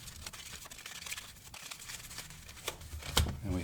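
A stack of hand-cut paper cards is shuffled close by, giving soft crinkling and riffling rustles with a few sharper flicks and taps, fairly quiet.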